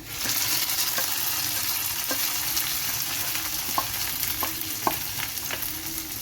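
Tempered mustard seeds in hot oil sizzle steadily as they are poured into a Kerala ozhichu curry of spinach and lentils, a continuous frying hiss with scattered sharp pops and clinks, close and alone.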